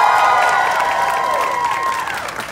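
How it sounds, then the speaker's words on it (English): A large crowd at an after-school program event gives a loud burst of applause mixed with cheering and shouts, starting at full strength and tapering slightly over a couple of seconds. "give yourselves a resounding round of applause."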